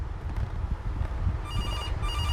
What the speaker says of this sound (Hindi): ये वाला फ़ोन यही बज रहा था इतने देर से